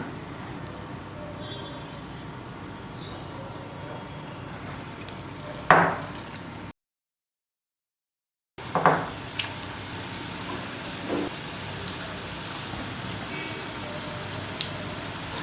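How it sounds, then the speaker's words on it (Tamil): Small onion bonda balls deep-fry in hot oil, a steady, crackling bubbling close by, with a couple of sharp clinks and a brief silent gap partway through, no speech. "சின்ன சின்ன உருண்டைகளாக நம்ம செஞ்சு எண்ணெயில் போட்டு பொரிச்சு எடுத்துடலாம்."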